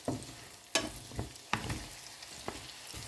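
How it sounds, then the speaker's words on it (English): Onion, carrot, zucchini and tomato frying in oil and butter in a pan, a close, steady sizzle broken by several sharp stirring scrapes and clacks of a utensil against the pan, with no voices. "Add the onion, continue on stirring until the onion will caramelize. Then add the carrot and zucchini."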